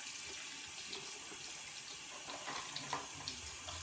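Cool tap water runs steadily into a sink while a makeup brush is washed, a continuous close splashing hiss with small irregular spatters.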